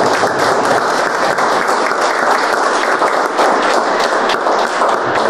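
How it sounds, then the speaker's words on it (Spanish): Sustained, dense applause from an audience honouring the artists at a conversation and audition event, loud and steady throughout with no voices on top. "un aplauso para los artistas"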